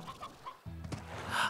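Chickens cluck softly in the Slime Rancher video game, a few short clucks followed by a busier burst of fowl noises near the end, faint and with no talk.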